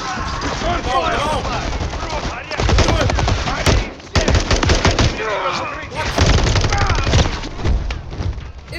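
Rapid gunfire in a shooter video game, dense bursts of automatic shots and thuds in two main volleys, loud and close, with voices shouting over the shooting.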